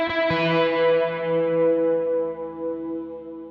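An electric guitar chord rings out through an amp plugin with extra gain and distortion, struck once near the start and left to sustain and slowly fade.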